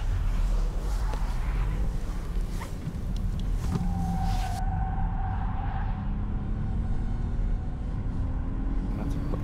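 A car's engine roars as it accelerates hard on winter tires during timed laps, a loud, rising drone with a whining tone that climbs steadily, close and continuous throughout.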